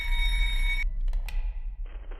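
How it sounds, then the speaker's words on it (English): A shrill, steady electronic ringing like an alarm clock sounds in a horror video game, then cuts off and leaves a low rumble with a few sharp tones and a rising buzz. "Why does this sound like an alarm clock?"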